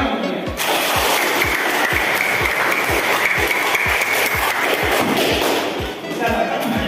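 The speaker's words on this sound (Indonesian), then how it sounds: "Tepuk tangan dong tentunya." An audience at a school presentation on recycling plastic bottles claps together in a loud, steady burst with dull regular thumps, then fades slightly near the end.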